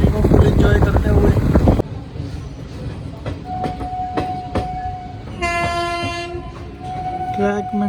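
The Gurumukhi Superfast Express rumbles along the rails on a nonstop run, loud rolling noise at first, then steady clatter with horn tones sounding intermittently toward the end.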